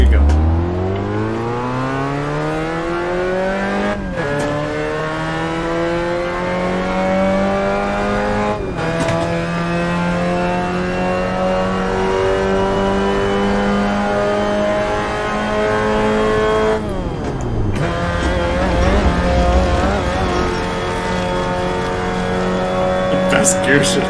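Mazda MX-5 Cup race car lapping a track, engine loud and close as it climbs through the revs, with sharp breaks at each gear change and drops on braking.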